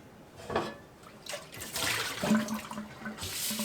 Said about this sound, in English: Make sure I rinse all of it out of my pot.